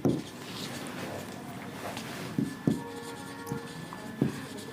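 Marker or chalk writing on a board during a maths lecture, faint scratchy strokes with a few sharp taps as letters are formed, close and alone.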